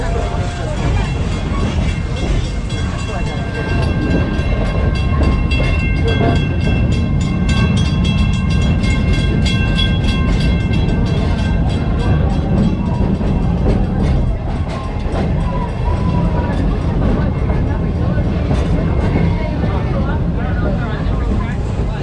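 Serengeti Express train at Busch Gardens Tampa Bay rolling through a railroad crossing, a steady loud rumble of wheels and rail clatter with faint rhythmic clicks, under a narrator talking throughout.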